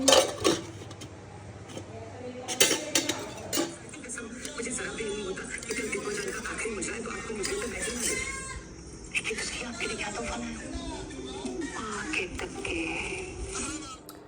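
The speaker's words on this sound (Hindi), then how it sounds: "मैं लग गई अपने काम में बर्तन साफ़ करने के लिए" Dishes, pots and utensils clink and clatter during washing up in a home kitchen, with sharp metallic knocks early on and a running, busy wash sound throughout while someone talks over it.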